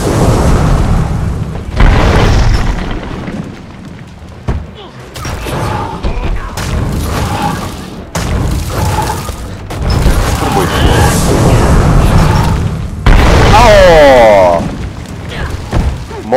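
Booming explosions from an Asura Elementalist skill in Guild Wars 2 burst repeatedly over about sixteen seconds, loud and layered with game effects and music, with a voice talking over much of it.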